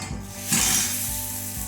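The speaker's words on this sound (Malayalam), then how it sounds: "അങ്ങനെ കറി വറുത്തിട്ടു" Curry frying in a hot pan in a home kitchen, a steady rough sizzling scrape with a brief louder burst partway through, close and continuous with no talking.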